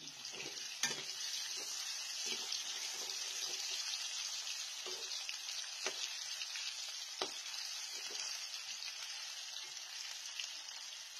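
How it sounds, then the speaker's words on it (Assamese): Potatoes fry in hot oil in a wok, with a steady close sizzle and crackle throughout and a few brief stirring clinks and scrapes, no voices. "এইফালে আলু ফ্ৰাই কৰি আছো।"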